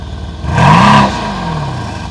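One quick, close rev from a car with a stock engine and its optional factory exhaust valve shut, swelling and then settling back to a steady idle.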